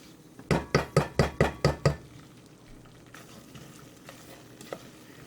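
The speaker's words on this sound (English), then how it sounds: "stirring this until it gets to the color that you're looking for" Seven quick, evenly spaced scrapes of a utensil stirring gravy in a pan for smothered turkey wings, loud and close, followed by a soft sizzling hush with a few faint clinks.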